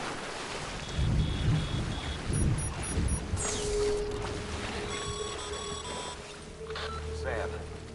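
Timefall rain and rolling thunder in the video game Death Stranding: a steady rain hiss with loud low rumbles of thunder near the start, while game tones and a voice sit faintly beneath.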